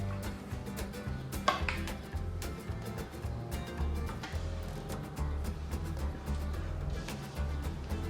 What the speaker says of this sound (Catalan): I ara barreguem la clara d'ou i el rovell.